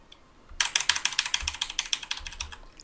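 Rapid clacking keystrokes on a mechanical computer keyboard, a steady burst of about twenty close, crisp clicks after a brief pause.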